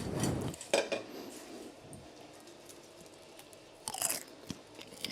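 Popcorn seasoned with salt and white pepper crunches close to the mic, with a few crisp bites and clinks of a bowl or utensils in an otherwise quiet room.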